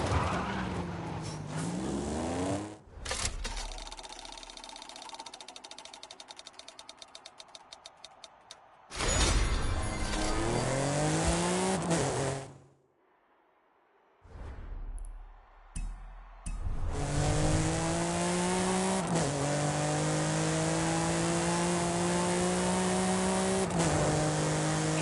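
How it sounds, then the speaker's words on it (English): Volkswagen Golf GTI racing in Forza Horizon 5, its engine loud and close, revving up through rising gear pulls with brief gaps and cuts, then a long sustained high-revving drone. "Which Golf do you want to drive for our little race? I'll take the Golf GTI."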